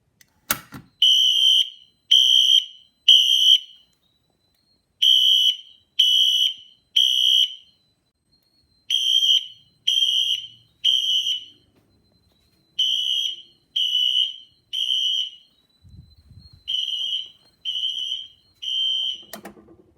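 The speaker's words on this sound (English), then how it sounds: "this alarm has that distinct Wheelock shrillness that comes with it" A Wheelock Exceder fire alarm, set off by a Simplex T-bar pull station, blares shrill piercing tones in repeating groups of three, loud and close, with brief gaps between each set.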